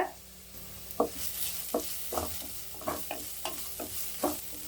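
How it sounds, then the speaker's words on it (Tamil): Onions sizzle softly in a pan while a spoon scrapes and stirs in a regular rhythm, about one stroke every half second. "நல்லா வெங்காயம் வதங்கட்டும்"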